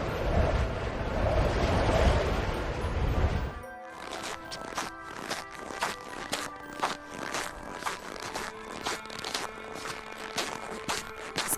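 After a burst of wind, slow crunching footsteps on snow follow, each squeaky step distinct and close in an unhurried rhythm.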